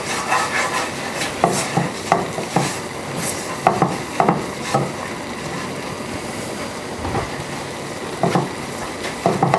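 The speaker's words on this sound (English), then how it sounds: "So this is the garlic. And we're gonna just cook it until you can start smelling it." Garlic cooking in a pan gives a continuous sizzling hiss close by, with regular light clicks and scrapes that sound like stirring throughout. Nobody speaks.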